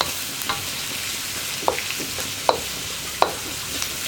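Vegetables for gobi manchurian stir-fry over a high flame, a steady sizzle broken by several sharp spatula clacks against the pan at irregular intervals.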